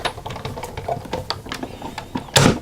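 A card-making die-cutting machine feeds a die through, giving a steady stream of close mechanical clicks and grinding crunches that ends in a louder burst of cranking near the finish, with no talking.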